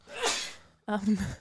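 A person sneezes close by, a sharp intake and breathy burst followed by a second voiced, nasal release.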